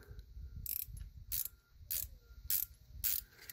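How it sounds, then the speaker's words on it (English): A 6mm ratcheting wrench backs out the fuel screw on a first-generation Cummins injection pump, giving five short, crisp ratchet clicks in a steady rhythm, close and fairly quiet. "I actually just grabbed a 6mm ratcheting wrench, and I'm backing it out now"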